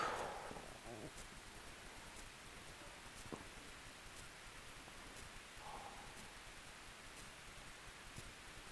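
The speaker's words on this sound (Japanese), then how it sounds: "なんか日が照ってると分かりますね、 雨が落ちてきてるのが。" Light rain comes down during a bicycle climb toward Budou Pass from Uenomura in summer, a faint, steady hiss with occasional soft ticks of drops, quiet and continuous without talking.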